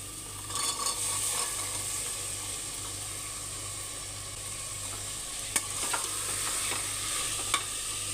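Soaked kidney beans hiss and sizzle as they sauté in hot masala for rajma, a steady frying crackle with occasional stirring scrapes and a few sharp clinks of the spoon on the pan, no voices.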